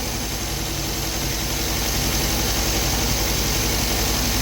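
A 1974.5 MG MGB engine idles on its own power after decades off the road, a steady, slightly rough low rumble with a constant mechanical chatter running unbroken and close by.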